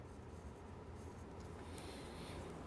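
Pencil scratches freehand across paper in a continuous soft scribble, close and faint, with no voices.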